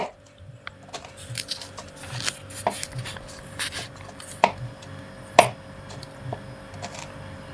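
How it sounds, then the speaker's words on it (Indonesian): A knife splits two lemongrass stalks on a cutting board, producing a series of irregular sharp chops and taps with a few louder cracks amid quiet kitchen background, close and clear. "2 batang serai, kita belah untuk serainya agar aroma keluar ya teman-teman."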